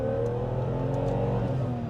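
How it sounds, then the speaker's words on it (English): A BMW E28 5 Series with its M30 straight-six engine revs up smoothly and steadily toward redline while climbing a hill, a loud, continuous, rising engine note. "it revs up beautifully towards redline"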